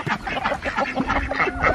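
Farmyard ducks quack in short, repeated bursts close by, several birds calling over one another in an uneven chatter.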